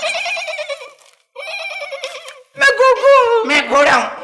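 Human voices imitate a horse neighing, with several loud, close, wavering whinny-like calls, one cut short, then overlapping cries at the end.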